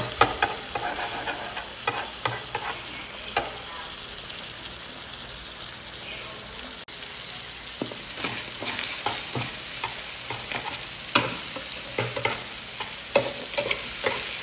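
Scrambled eggs cooking in a pan with bitter gourd and ground meat, a soft steady sizzle with intermittent stirring scrapes that grows brighter partway through, with no voices.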